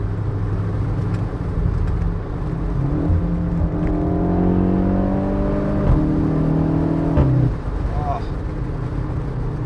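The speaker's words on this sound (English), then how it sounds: "I want to hear the exhaust." A VW Golf 7.5 R with a 310 hp engine and DSG gearbox drones steadily from the exhaust while driving, its note climbing through several rising rev sweeps before dropping off and settling back.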